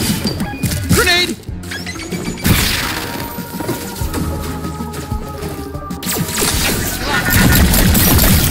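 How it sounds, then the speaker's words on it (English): Grenade blast in the shooter game High on Life, a loud crashing burst amid dense gunfire and game effects, with a voice talking over the chaos. "Grenade."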